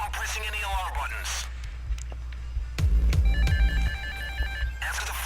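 Telephone ringing inside the Payday heist video game during a No Mercy stealth level, a repeating electronic ring pattern in short bursts over game ambience and low rumble, with a voice speaking.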